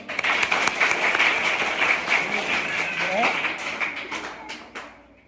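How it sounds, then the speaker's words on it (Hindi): Schoolchildren clap together in a government middle-school classroom, a dense, sustained burst of many hands that tapers off toward the end, with a voice briefly heard over it. "ताली बजाओ।"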